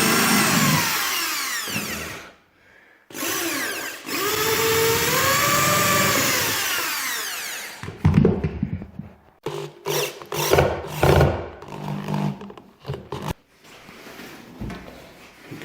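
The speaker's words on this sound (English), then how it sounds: "just screwing these boards down" A power screwdriver drives screws down into floorboards: two long whirring runs whose pitch rises and falls, followed by a series of sharp knocks and clattering handling sounds.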